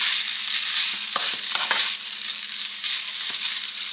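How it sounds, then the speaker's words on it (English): Leftover rice is stirred in a hot pan for a Tex-Mex meal. A constant frying sizzle runs throughout, with scattered scraping clicks from the utensil, close and alone. "you want to get that rice mixed up in there really well also because you need to heat it up"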